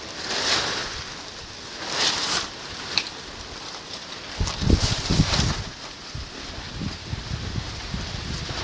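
Strong wind gusting across a rural yard in East Kalimantan, a steady broadband roar rising and falling in swells, with a few low rattling thumps of loose structures partway through.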